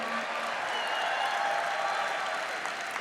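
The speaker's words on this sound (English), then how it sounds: "Give him a cheer. Come on, Brooklyn." Studio audience at a Brooklyn late-night talk show applauding and cheering a guest, the Republican candidate for mayor of New York City; a steady wash of clapping and crowd noise holds throughout, with no talk over it.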